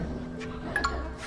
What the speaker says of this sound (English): Oh, it's my dog's collar.